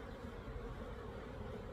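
A steady, dense hum of many honeybees buzzing nearby as they are shaken from a frame into a nuc box, continuous and fairly soft, with no voices.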